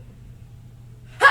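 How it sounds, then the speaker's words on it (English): One short, breathy sneeze bursts out at the very end after near silence, close to the microphone, abrupt and airy. "That was like a fart mouth sneeze."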